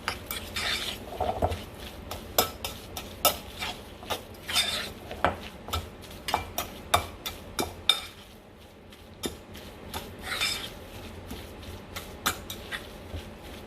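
Salmon cake mixture of salmon paste is stirred in a bowl, a utensil clinking and scraping against the dish in a steady run of sharp taps with a short pause midway, close and fairly quiet.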